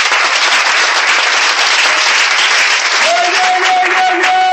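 A church congregation applauding and cheering for Jesus, with loud, dense, sustained clapping and crowd noise filling the whole stretch and a voice rising over it toward the end.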